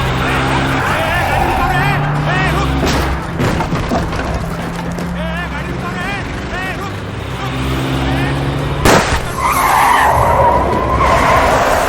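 A car skids hard to a stop at a police barricade in a Hindi action film scene, loud tyre screeching over engine roar, a sharp bang, and babbling voices amid dramatic background sound.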